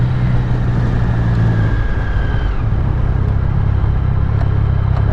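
A 2013 Triumph Speed Triple motorcycle ridden past a cemetery, its engine a loud, steady, continuous rumble with wind noise throughout.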